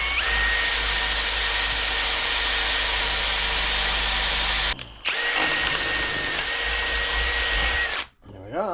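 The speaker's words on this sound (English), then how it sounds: "So I'm just going to try and drill it out." A power drill bores out a bracket on a Norton motorcycle side stand, a loud steady whine held for several seconds, a brief stop, then a second long run before winding down, up close in a workshop.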